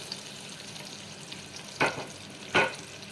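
Chopped small onion frying in a few spoonfuls of desi ghee, a steady soft sizzle with two brief louder crackling bursts near the end, close and without talk.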